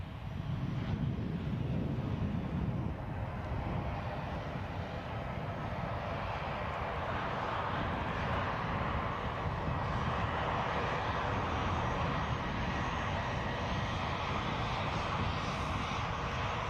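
An Embraer 190 long-range jet at Edinburgh Airport makes a steady, sustained engine roar and rumble with no voices, holding an even level throughout.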